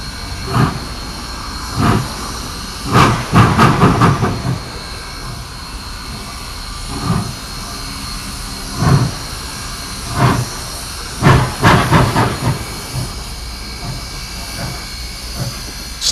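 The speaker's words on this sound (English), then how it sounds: "Steel tires slipping on steel track was a sound that once brought fear to the locomotive engineer." Steam locomotive pulling out of a yard toward the station on slick, moisture-wet rails, steel tires slipping on steel track: bursts of loud chuffing and hissing steam come in irregular clusters over a steady background rumble and hiss.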